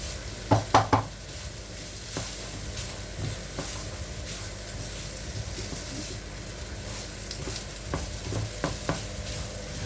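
Rice with Chinese sausage being stir-fried in a pan, a soft steady sizzle under scraping and clinking of a spatula, with a few louder clattering strokes at the start and near the end.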